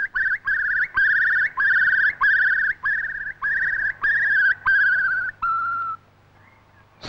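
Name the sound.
curlew bubbling song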